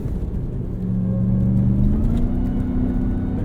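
A 2021 Ram 1500 TRX drives over sand dune whoops, its engine giving a steady, loud low rumble and whir with a rising tonal drone as it climbs through the bumps.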